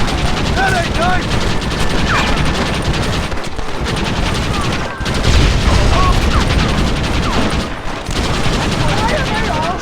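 Gunfire in the Red Dead Redemption video game rings out as a loud, continuous fusillade of overlapping shots from many guns, with voices mixed in.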